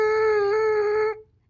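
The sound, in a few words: buzzing lips into a trumpet mouthpiece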